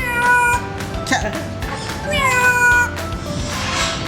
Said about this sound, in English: Yun ang sounds ng cat.